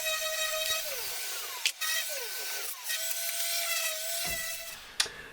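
Primed wood cabinet parts, infill and face frames get a light denib sanding, a steady whirring tool tone that shifts pitch as it moves, with a couple of sharp knocks breaking in.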